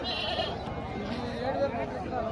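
A male goat bleats several times at a livestock sale, its calls heard close over steady background noise and murmuring voices.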